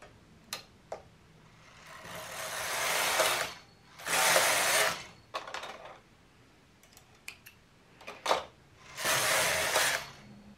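Knitting machine carriage sliding across to knit the work off onto waste yarn, several loud whooshing mechanical passes, each lasting about a second, separated by quieter clicks and ticks, close by with no talking.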